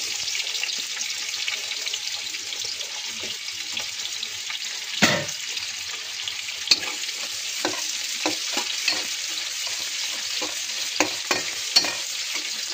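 Onion and garlic sizzle steadily in a hot pan for fried rice, with a bright continuous hiss and occasional scraping clicks and knocks as a spoon stirs through them, close and alone.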